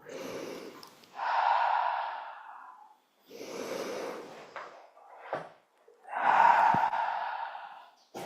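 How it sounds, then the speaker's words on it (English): Slow, deep breathing during a posture exercise, with long breathy inhales and exhales recurring close to the microphone in an unhurried rhythm, about four breaths with short quiet gaps between. "Breathing."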